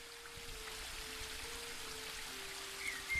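Steady, soft rushing of a waterfall in the game The Book of Unwritten Tales 2, a continuous distant wash of water with a faint low hum beneath.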